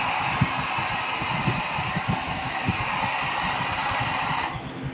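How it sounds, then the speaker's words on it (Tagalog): A cheap hair dryer blows on long hair, a steady loud whirring airflow that runs continuously before cutting off abruptly near the end. "Kaya, mag-blower na lang natin siya guys"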